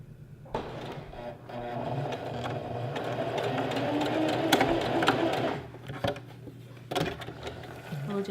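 A sewing machine stitches a knife-pleated maxi skirt, a steady mechanical whir running for several seconds before it stops, followed by a few brief clicks and handling sounds.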